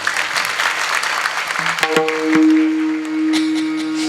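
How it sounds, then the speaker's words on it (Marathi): An audience claps steadily throughout, a dense wash of applause with a sustained tone from a musical instrument joining partway through. "त्यांच्यासाठी टाळ्या वाजवा बरं."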